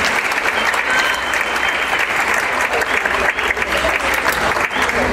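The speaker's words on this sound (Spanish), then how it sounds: "Un aplauso a mis compañeros que ayudan." A concert audience at a bolero and marimba evening applauds the helpers on stage, a loud, sustained wash of clapping from many people, steady throughout with small dips.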